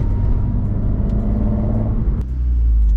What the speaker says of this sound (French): Là, on a un bruit de 1500 tours minutes.